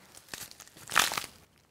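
Celery stalk snapped and twisted as a foley bone-breaking effect, a short burst of crackling, crunching fibres peaking in one sharp crack, fairly quiet and close.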